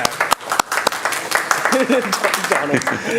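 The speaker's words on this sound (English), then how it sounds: "clapping the loudest back there" Applause at a Manvel city council meeting after a unanimous 7-0 vote, scattered clapping from the room running under a speaking voice.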